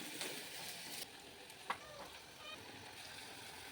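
Mushroom gravy ingredients, including a ginger-garlic and shallot paste, sizzle and fry in a pan with soft stirring scrapes, steady and close but fairly quiet.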